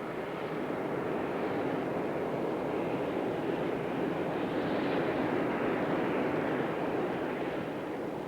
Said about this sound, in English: The physical link between the European partners is the Super Guppy, a very remarkable transporter.